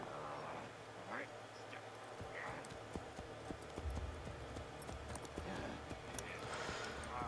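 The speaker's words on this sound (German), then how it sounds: "Oh Mann, Pferde. Pferde im Videospielen." Horse hooves clop steadily in the video game Assassin's Creed: Brotherhood, a rhythmic trot under game ambience and a talking voice.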